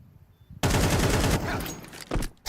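Rifle gunfire in Counter-Strike, an upgraded M4 firing at an esports match, bursts in as a sudden loud rapid volley, then a short pause and a few more close shots.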